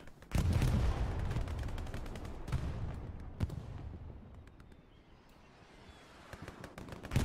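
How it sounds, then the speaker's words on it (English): Heavy artillery fire in Hell Let Loose during a competitive match. A deep, loud boom rolls on with rumbling decay, followed by scattered distant gunshots and further thuds. "Holy, that was a chunky artillery piece."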